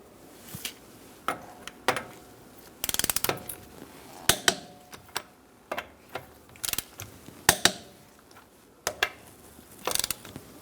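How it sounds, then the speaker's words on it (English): A torque wrench with a 19mm socket tightens the wheel lug nuts on a 2012-2018 Ford Focus to 100 foot-pounds. It gives sharp ratcheting clicks in uneven bursts over about ten seconds, close up, with no voices. "Using a 19mm socket, we're going to torque our wheels to 100 foot-pounds."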